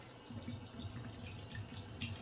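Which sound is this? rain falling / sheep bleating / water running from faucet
water running from faucet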